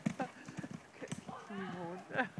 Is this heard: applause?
no